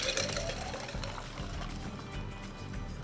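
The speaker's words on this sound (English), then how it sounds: "we're gonna take that lid off and pour this into a classic piña" A piña colada poured from a cocktail shaker into a tulip glass, a steady liquid splash and trickle running continuously at close range for a few seconds with no talking.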